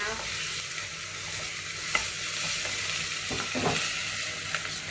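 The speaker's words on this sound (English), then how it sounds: "So you have to keep them stirring so I'm just going to carry on stirring for now" Onions being stirred as they slowly brown in a frying pan, a steady soft sizzle with scraping utensil strokes against the pan, close and continuous with no talking.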